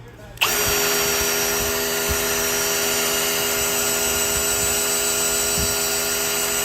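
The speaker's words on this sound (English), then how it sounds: "We'll slow the drill down here. That's kind of too fast." A power drill spins to prime the oil system of a rebuilt 1994 Mercruiser 7.4L 454 marine engine, starting suddenly and then holding a loud, steady whine with faint occasional knocks underneath.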